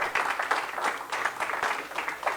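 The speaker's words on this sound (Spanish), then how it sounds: "Les pido otro aplauso, hermanos, para nuestro Dios" A church congregation claps in praise, steady dense applause at moderate volume filling the room throughout, with bursts of clapping rising and falling and no clear speech.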